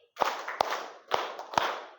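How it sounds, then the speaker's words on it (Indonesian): A group of students in a classroom claps in unison, two pairs of quick sharp claps, each pair closely spaced, loud and clear with no talking. "Tepuk 2 kali."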